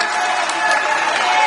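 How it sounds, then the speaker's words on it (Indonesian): Crowd applause welcomes an Olympic gold-medal athlete arriving in Indonesia, loud and continuous as a dense wash of clapping and cheering from a large gathering. "Begitu meriah tepuk tangan yang diberikan menyambut"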